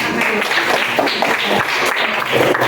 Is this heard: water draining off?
no